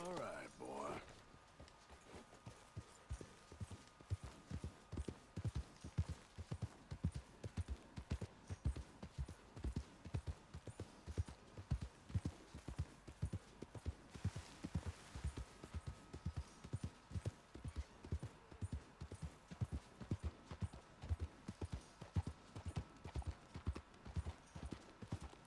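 Horse hooves clip-clop at a steady walking rhythm in Red Dead Redemption 2, continuous and fairly close, with someone talking at times over the hoofbeats.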